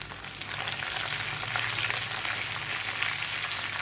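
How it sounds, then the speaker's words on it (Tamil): Cashews and curry leaves sizzling in oil in a pan for ven pongal, a dense, even crackle and hiss that carries on steadily with no talking. "இது நல்லா ஃப்ரை ஆகணும். நல்லா ஃப்ரை ஆகிடுச்சு. இப்போது கருவேப்பிலையை சேர்த்துப்போம்."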